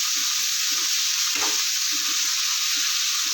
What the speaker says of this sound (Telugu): బాగా దూరగా వేయించుకున్నాం పచ్చివాసన పోయేదాకా